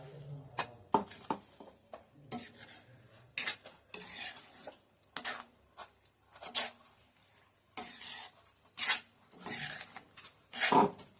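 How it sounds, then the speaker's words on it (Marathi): Hyacinth bean (val) usal being stirred in a pot: a spoon scrapes and clanks against the metal in irregular bursts between short pauses, with a faint sizzle underneath. "तर आपण हे सगळं ढवळून घेऊया."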